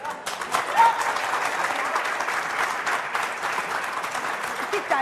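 Audience applause at a televised political debate, a sustained wash of clapping from a crowd lasting throughout, fairly loud and steady without a break.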